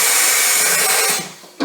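A CNC automatic tool changer indexes forward with a loud, steady mechanical whir and hum that holds for about a second, then winds down and ends with a short clunk.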